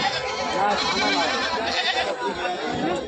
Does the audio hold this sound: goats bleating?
yes